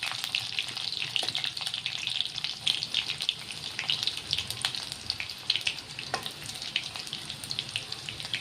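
Sliced garlic sizzles in hot oil in a pan, a steady close crackling fry with small bursts and pops running throughout at moderate volume.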